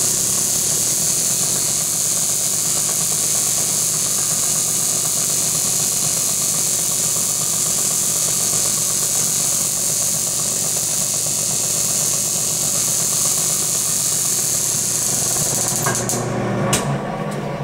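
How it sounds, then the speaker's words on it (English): An ignition distributor spun on a distributor test machine at engine idle speed, around 950 to 1000 RPM, giving a steady, loud mechanical hum and whine with fast ticking, running unbroken until a brief clatter near the end. "we're going to run the distributor up to engine idle speed 950, 1000 RPM, and record what's going on"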